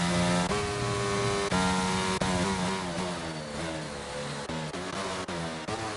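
Racing car engines roar in the F1 22 video game at Silverstone during an esports restart, a loud, steady whine with several sharp gear-change breaks, with no voices over it.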